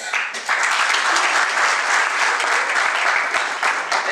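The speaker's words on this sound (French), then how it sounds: "Les applaudissements sont faibles" Sustained applause from a crowd at a civil wedding, steady and moderately loud, with scattered individual claps throughout.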